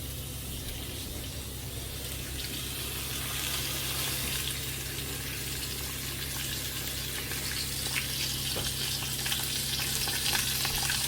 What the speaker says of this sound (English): fat side of the steak, we're going to sit in the pan. Let that render down a bit